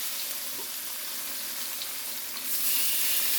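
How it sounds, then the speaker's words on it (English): Six thin chicken slices fry in a skillet, a steady, dense sizzle close by that swells louder near the end, with no voices. "we're just going to brown it real good on both sides. And while that's frying"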